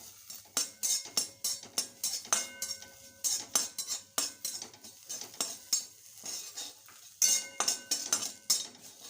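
Dried fish (shutki) being fried in a wok, with a spatula clinking and scraping against the pan in a steady rhythm of close, sharp strokes over a faint sizzle, for a pumpkin, lentil-dumpling and potato curry.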